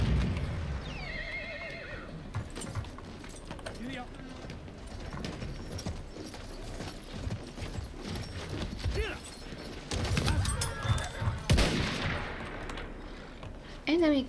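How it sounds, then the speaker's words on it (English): A horse whinnies near the start amid Battlefield 1 game sounds, with hoofbeats, bursts of gunfire and a voice talking over the busy mix. "A horse, my favorite thing."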